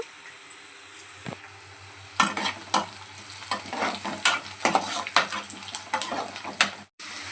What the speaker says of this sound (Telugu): చూడండి ఉల్లిపాయలు వేగాయి